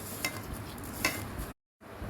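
Sliced onions dropped into hot mustard oil in a pan give a soft, steady sizzle with a couple of brief stirring scrapes, close by, then a short full break before the frying noise returns.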